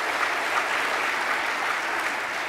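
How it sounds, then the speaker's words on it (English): A panel audience breaks into applause, a full, even wash of many hands clapping close and fairly loud, steady throughout with no speech over it. "give a round of applause because I know you wanted to."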